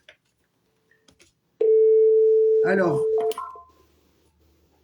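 A mobile phone plays a loud, sustained busy tone, and dialing beeps break in partway through. A voice speaks briefly over it before the tones cut off, leaving near silence.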